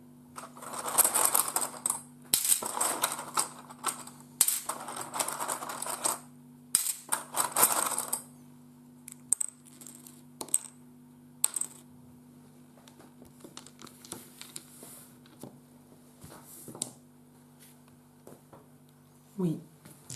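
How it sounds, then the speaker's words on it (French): Metal coins clink and clatter as they are taken from a purse and set down during a game of King's Gold, several bursts of jingling spread across the clip with French conversation between players. "je vais prendre 3 pièces dans la bourse et en mettre 3 chez le roi"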